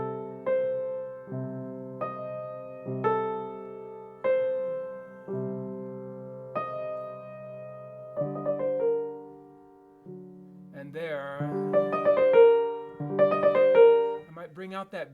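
A piano plays a slow series of sustained chords held with the sustain pedal so the notes ring together and build up, each chord struck clearly and decaying before the next, with no talking.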